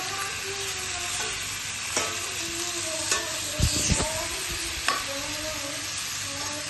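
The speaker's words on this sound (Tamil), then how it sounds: "சிக்கன் நல்லா கலக்கிக்கலாம்." Chicken fries in a pan with a constant hissing sizzle, broken by occasional scraping stirs and a brief louder clatter of the utensil, close by.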